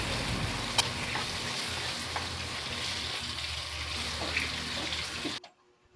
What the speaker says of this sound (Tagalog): At inilagay ko na yung nilas natin chicken breast.